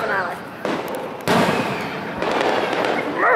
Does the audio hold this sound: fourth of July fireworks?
yes